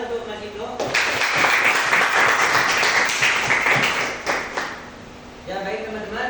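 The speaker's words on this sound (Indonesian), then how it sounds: "Tepuk tangan untuk Mas Ibnu." A classroom of students claps for a classmate in a burst of brisk applause lasting several seconds, then tapering, with voices over it.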